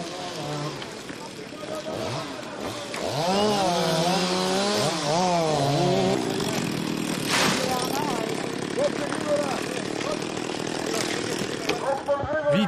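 Chainsaws cut trees close to houses, the engines whining and rising and falling in pitch while a voice talks over the buzz.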